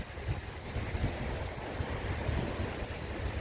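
Continuous wash of ocean surf breaking on the shore at a beach, with wind buffeting the microphone throughout; no voices.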